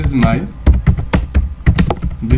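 Keys on a computer keyboard clatter in quick irregular taps and clicks while PHP code is typed, close-miked, with a person talking over the keystrokes.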